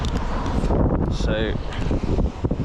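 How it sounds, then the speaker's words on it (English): Strong wind buffeting a microphone outdoors at night, a loud continuous rumbling roar with gusts, while someone talks over it. "It's probably way too windy for you to hear this"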